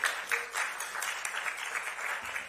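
Steady applause from a crowd fills the whole moment, a dense wash of clapping at an even level.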